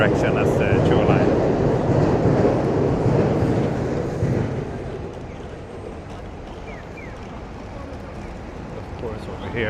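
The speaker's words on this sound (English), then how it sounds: "There's at least a Sobu line train, which basically goes the same direction as the Chuo line." A Sobu line train in Tokyo passes with a loud rumbling roar that slowly fades, heard from a nearby city street.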